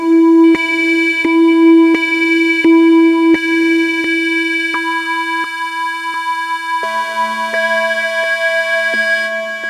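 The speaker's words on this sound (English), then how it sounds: "this peak has some very nice chorus, delay and reverb effects" Peak synthesizer playing a bright stepped note sequence through chorus, delay and reverb, with rhythmic plucked attacks, shimmering sustain and echo tails, then shifting to a fuller held chord.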